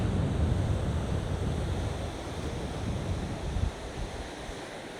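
Continuous wash of a fast incoming tide and gusting wind on the beach at Mablethorpe, loud at first and easing slightly toward the end, with no talking.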